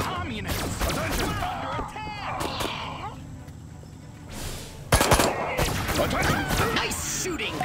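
A disintegrator ray firing in the video game Destroy All Humans! 2, heard as repeated zapping bursts with rapid crackling, mixed with game chatter and voices, then a sudden loud blast near the middle and busy noise after it.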